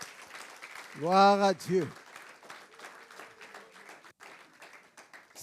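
Church congregation clapping to acclaim the Lord, a steady mid-level wash of applause that follows a loud sung or shouted exclamation and continues under background voices.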